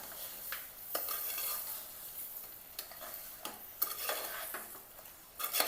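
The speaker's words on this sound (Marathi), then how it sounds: "मटण परतून घ्यायचं व्यवस्थित।" Mutton sautéing in a pan with salt and black masala for a mutton curry, a spoon scraping and stirring in repeated strokes over a steady close sizzle, with no talking.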